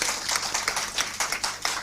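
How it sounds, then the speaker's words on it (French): Audience clapping at a Tabaski celebration show, a fairly close, loose patter of individual claps with a rough rhythmic pulse rather than a full roar, steady in level throughout. "Applaudissez pour lui, s'il vous plaît."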